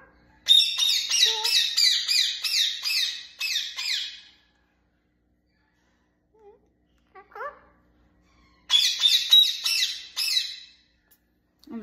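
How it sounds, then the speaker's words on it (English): A pet bird squawks loudly in rapid, harsh bursts that last several seconds, falls silent, then starts again. A few faint, scattered sounds fill the gap between the outbursts. "In the background, you can hear Coco making a lot of noise"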